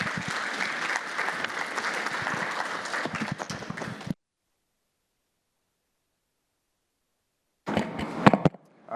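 Audience applause welcoming a doctor to the stage at a skin cancer community talk, steady clapping for about four seconds, then silence, then a brief burst of claps.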